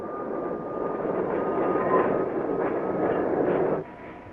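Freight train cars rolling through a rail yard, a loud, continuous broadband rumble and rattle that swells, holds, then cuts off abruptly.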